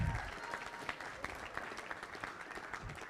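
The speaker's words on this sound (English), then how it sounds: "Round of applause for Jack" A brief round of audience applause during a tennis scholarship auction, dense clapping heard at a moderate distance and fading slightly over a few seconds, with no talk.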